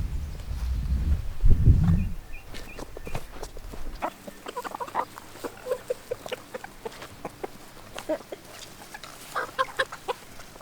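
Chickens cluck and chatter in scattered bursts at a goat farm, close and moderately loud, after a brief rumble of handling noise at the start.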